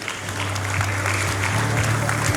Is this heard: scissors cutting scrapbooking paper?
no